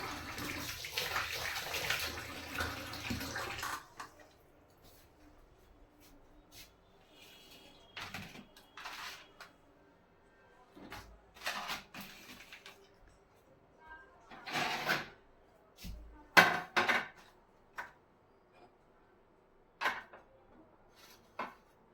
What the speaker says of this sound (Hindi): कॉफी के बर्तन को ना हाथ के हाथ भिगो देती हूँ